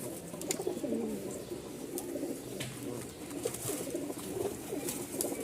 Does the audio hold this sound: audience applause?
no